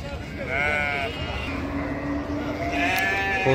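Sheep at a Taraz livestock market give a few drawn-out bleats over steady background chatter and crowd noise, with ewes and lambs among the animals for sale.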